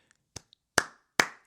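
A few sharp handclaps from a workout video's closing applause, three distinct loud claps preceded by a couple of faint taps, close and isolated with no talk.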